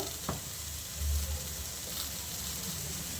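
Salted ridge gourd fries in a pan for a spicy chutney, a close, even sizzle and crackle with a brief soft stirring bump near the middle and no talking.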